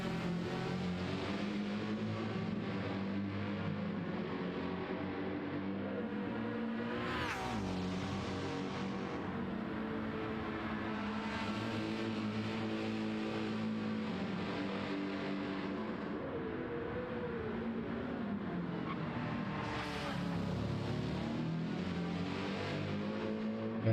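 Racing engines in a Porsche and AMG battle at the Nürburgring 24-hour race, a continuous dense roar of revving and passing cars with swells as machines go by, loud and unbroken.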